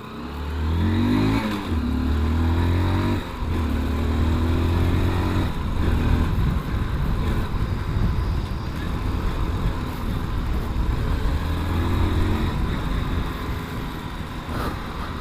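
A motorcycle engine starts and revs, then drones loudly and steadily as it rides, close and continuous, with gear shifts changing the pitch.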